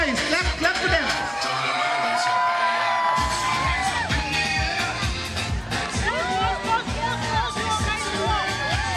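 Wedding guests cheer, whoop and shout for the arriving couple at a resort wedding, with a lively crowd din, scattered claps and excited voices mixed over music.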